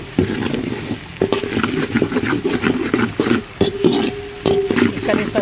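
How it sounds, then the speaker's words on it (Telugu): Ginger garlic paste sizzles and spatters in hot oil in a pan for a tomato curry, with a steady frying hiss broken by repeated scraping stir strokes. "అల్లం వెల్లుల్లి పేస్ట్ ఒక స్పూన్ వేస్తున్నానండి కలుపుకోవాలి"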